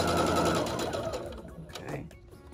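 A sewing machine stitches a corded pillow cut from curtain panels in a quick, steady mechanical whir that slows and stops after a couple of seconds, close and fairly quiet.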